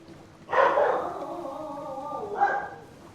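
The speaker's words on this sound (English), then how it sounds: "Again, sorry about my dogs." A pet dog gives one clear, fairly close bark that trails into a whining yelp, then a second shorter yip, heard over a faint background hum.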